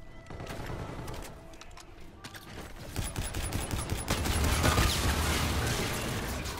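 Full-auto gunfire in a video game: sustained rapid bursts, loud and close, grow denser and heavier over the second half, with mechanical clicks mixed in.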